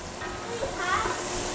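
Garlic frying in a hot pan for lasagna, a continuous bright sizzle with soft crackling that holds steady and close the whole time.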